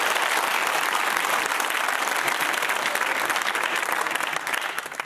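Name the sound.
applause from quiz contestants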